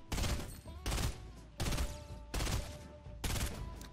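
A burst rifle in Fortnite fires five evenly spaced bursts, each a tight rapid cluster of loud, close shots with short pauses between.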